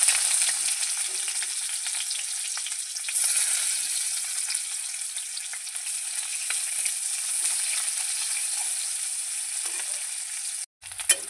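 Chopped onion sizzles steadily in a hot pan, a continuous bright frying hiss with faint stirring scrapes, holding fairly loud and even throughout before a brief dip near the end.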